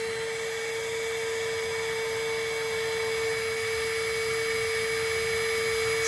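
Breath blown hard and steadily into a Parkside digital anemometer gives a continuous close-up rushing hiss with a steady whining tone running through it for the whole stretch, with no talking.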